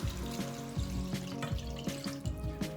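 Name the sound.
water poured into cooking pot for sinigang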